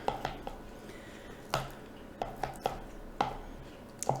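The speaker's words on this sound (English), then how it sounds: "I'm just going to cut these into little bite-sized pieces here" A knife taps sharply against a cutting board in irregular chops, cutting cooked steak strips into bite-sized pieces, close and fairly quiet, with soft cutting sounds between strikes.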